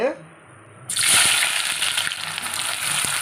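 Hot oil in a pan for pepper chicken masala bursts into a loud, close sizzle about a second in after a quiet start, then holds a steady hiss with faint scraping.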